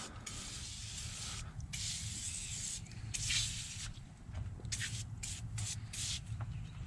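Cleaner sprays steadily onto a car engine bay outdoors in still air, a soft continuous hiss with brief pauses and spurts between trigger pulls, fairly quiet and close.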